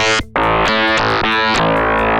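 A loud, buzzy synth bass with heavy distortion, playing a rhythmic sequence of gritty sustained notes with a brief gap near the start, in a cyberpunk-style industrial sound.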